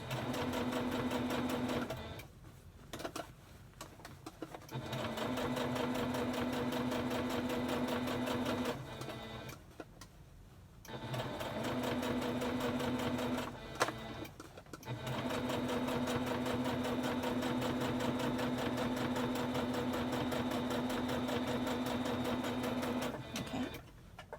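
A sewing machine hums steadily as it stitches a pleated fabric mask, running in long bursts of several seconds separated by short pauses where the fabric is handled, loud and close with no talking.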